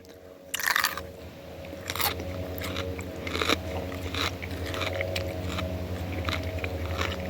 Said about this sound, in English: I always like vegetables that have a good crunch.